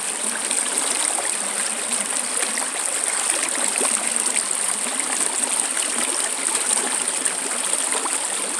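Water rushing steadily through a new gold sluice box, a close, continuous hissing stream with bright splashing that holds throughout, no talking.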